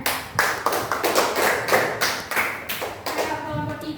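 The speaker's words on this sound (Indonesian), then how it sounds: "Tepuk tangannya." Classroom audience of schoolchildren clapping after a group presentation, a steady patter of hand claps in uneven bursts lasting several seconds, close and moderately loud.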